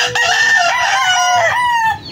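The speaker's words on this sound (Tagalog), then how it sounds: "ang ingay ng ating mga alagang manok" A loud rooster crows once up close, a long wavering call lasting about two seconds, with some clucking mixed in.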